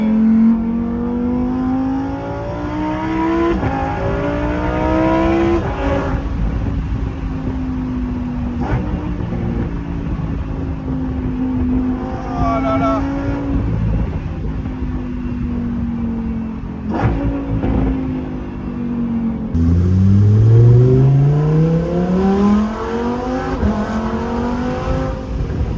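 Lamborghini Huracan Performante Spyder engine burbling at low revs from inside the cabin, its rumble rising and falling in pitch over several gentle throttle changes, with a stronger rev climb near the end; no talk.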